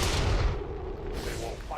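Overwatch gunfire in XCOM 2 War of the Chosen, heavy booming shots blending into a loud, dense burst of game combat noise.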